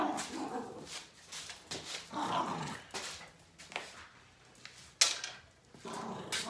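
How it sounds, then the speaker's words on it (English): A dog growls, whimpers and gives short barks in a garage setting, the sounds coming in irregular bursts at close range with a sharp bark near the end. "You crazy dog."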